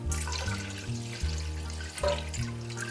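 Milk and water for polenta pour into a pot, a continuous close splashing flow with a few uneven surges and shifts in pitch as the liquid fills.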